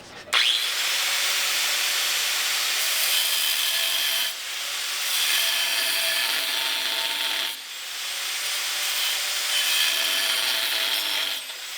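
A metal section is cut out of a V8 Buick LeSabre left sitting for 34 years, during patch-panel repair. A harsh, steady cutting noise runs close and loud for the whole stretch, with two brief dips in intensity and no talking.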